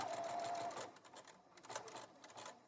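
A sewing machine stitching a side seam with a pocket, a steady close mechanical whir that runs continuously and then slows and eases off toward the end, with no speech.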